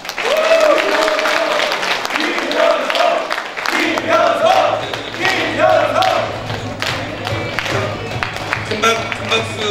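An audience at a book launch event breaks into hearty applause, with bursts of clapping and crowd noise mixed with a voice talking over a low hum.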